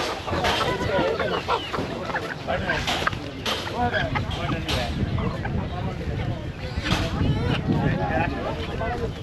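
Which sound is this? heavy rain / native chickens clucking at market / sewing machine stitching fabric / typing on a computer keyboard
native chickens clucking at market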